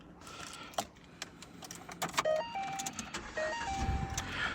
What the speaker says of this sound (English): So we crank the car up.